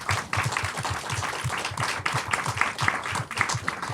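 An audience at an evening debate on Mumbai and climate breaks into a steady round of applause, dense clapping from many hands at moderate level, mixed with light crowd murmur.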